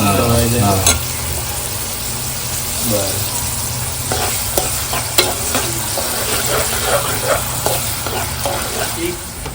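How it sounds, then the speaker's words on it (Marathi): Onion frying in hot oil with mustard seeds and curry leaves, a steady close sizzle broken by scraping stirs and clatters of a spoon against the pan. "पहिला कांदा टाकतो हा कांदा लाल करून घ्यायचा आता कांदा लाल होईपर्यंत"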